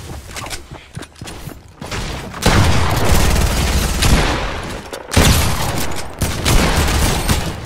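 AK rifle gunfire in the video game Fortnite, with loud rapid bursts of shots and booming blasts that fill the mix, close and sustained across the stretch with no talking.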